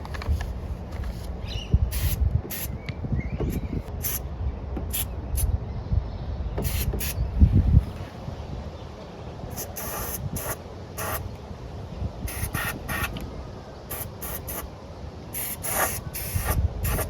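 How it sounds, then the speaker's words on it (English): Rust converter is sprayed from an aerosol can onto rusted spots in a Mazda 323 boot, a series of short sharp hissing bursts in an uneven rhythm, close and fairly loud, with faint rubbing and handling noise between them. "next we'll be using this rust converter spray on all the rusted spots"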